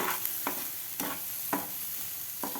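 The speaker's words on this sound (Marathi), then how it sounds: "भाज्या आपल्या थोड्याशा फ्राय झालेल्या आहेत" Vegetables for egg chaat frying in a pan, giving a steady close sizzle broken by a few regular stirring scrapes, with no one speaking.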